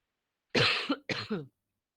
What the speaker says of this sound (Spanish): Esperen que me agarró la tos.